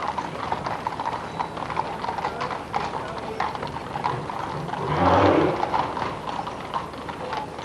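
Horses' hooves clip-clop at a steady walking pace as they draw a gun carriage in a ceremonial funeral procession in London, with a crowd murmuring throughout and a louder swell of noise partway through.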